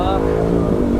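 A Suzuki Shogun 110cc motorcycle engine drones with steady harmonic tones in a brief close pass, with a voice talking over it.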